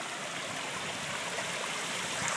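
A waterfall splashes steadily: a constant rushing, hissing wash of falling water, fairly quiet and unbroken for the whole stretch, with no voices.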